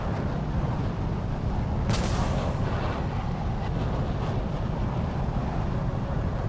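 A missile strikes the player's J-10 jet in a video game, a sudden sharp blast about two seconds in that rises briefly over a constant loud roar of engine and wind, with no talking.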